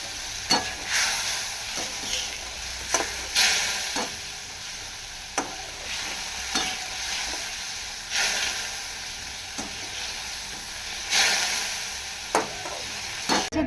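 Fish sizzling and frying in a hot pan with a steady hiss, broken by sharp spatter pops and occasional scrapes as pieces are turned, close and without talk.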